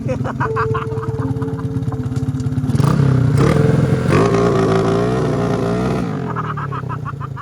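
A Honda Supra motorcycle engine with its tuning not yet set right revs unevenly, rising to a louder, strained roar midway before easing back, close and continuous, with voices over it.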